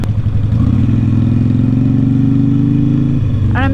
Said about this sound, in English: I'm still trying to get used to the gearing on this motorcycle.